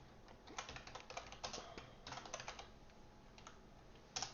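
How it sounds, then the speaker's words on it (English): Rapid keyboard typing while coding, a close, quiet stream of clicks in uneven bursts with short pauses between runs of keys, and no one talking. "I think I'm just typing too fast for my brain."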